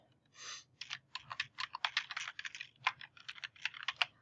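Rapid, irregular clicking of computer keyboard keys as a username and password are typed, close and clear with no talking.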